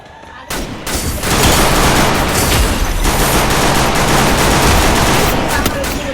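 Gunfire in the battle game Free Fire, dense and loud, with rapid overlapping automatic bursts that run almost continuously after a brief quieter opening.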